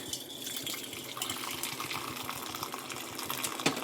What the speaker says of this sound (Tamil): கொஞ்சமாக தண்ணி வடிகட்டிடலாம்